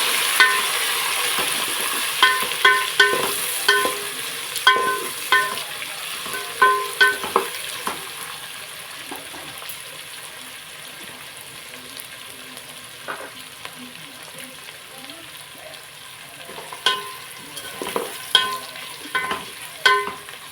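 Onions and tomatoes frying in a pan for prawn biryani, soft sizzling under repeated clinks and scrapes of a utensil stirring in irregular bursts, close by, with a quieter stretch in the middle.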